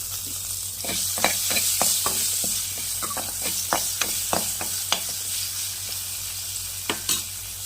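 Cashews and curry leaves sizzle steadily in hot oil in a pan while a spoon scrapes and taps through them in irregular strokes, the stirring sharp and close over the continuous frying hiss.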